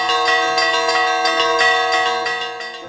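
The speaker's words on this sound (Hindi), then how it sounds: "जब वो मांग मंजूर हो गई तब सारे चर्चों में घंटानाद हुआ" Church bells ring in a steady, overlapping peal with rich sustained overtones and repeated strikes, loud and continuous throughout, with no voices.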